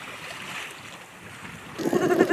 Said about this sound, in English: it's a really nice sail and the perfect winds for Kate and T's first night watch tonight